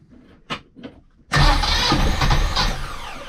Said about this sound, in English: It's like just a new starter motor.